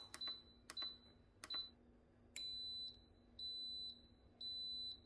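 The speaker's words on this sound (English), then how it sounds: "So I got a burn notification on the Instant Pot." Repeated high electronic beeps from an Instant Pot pressure cooker giving a burn warning: three short clustered chirps, then three longer steady tones with even gaps, clear and alone over a faint low hum.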